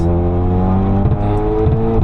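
A tuned Golf 8 R with over 500 hp pulls hard at full throttle out of a tight left corner on the Nürburgring, its engine droning loud and close with a steady rising tone.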